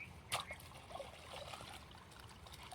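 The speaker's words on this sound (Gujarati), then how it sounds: "જો તમે પાણી આવે છે અત્યારે." Irrigation water trickling and gurgling into a field channel, a faint steady flow with a brief splash near the start.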